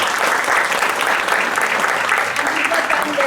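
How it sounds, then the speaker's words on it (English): An audience at a school parent orientation gives a loud, close round of applause for students wearing turbans, with continuous dense clapping throughout. "Let's give them a big round of applause."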